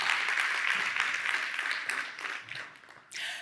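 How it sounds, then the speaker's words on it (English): Brief applause from the audience at a corporate awards ceremony, fairly faint and fading over a few seconds before a short final burst. "A round of applause to each of you, ladies and gentlemen."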